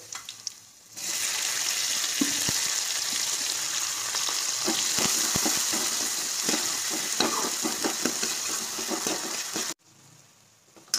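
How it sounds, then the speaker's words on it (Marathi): Onion sautéed with garlic paste in a pan over a low flame for home-style pav bhaji: a steady, close, dense sizzle with scattered stirring clicks lasting about nine seconds, then dropping away abruptly. "बारीक गॅसवरती आपण कांदा 1 मिनिट परतून घेणार आहोत"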